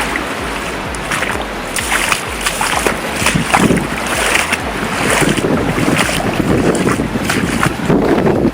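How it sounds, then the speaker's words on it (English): Loud rushing water and splashing as a vehicle drives through puddles, with buffeting wind noise over a steady churning roar and no voices. "We're about to go through the puddles!"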